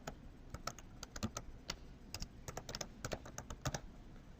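Typing on a computer keyboard, a quick irregular run of crisp close key clicks with brief gaps, alone without talk.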